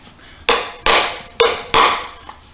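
A 1 13/16 socket is hammered against a transmission oil seal to drive it home, lip facing down. Four loud, sharp metallic strikes land about a third of a second apart, each ringing briefly, with no talking.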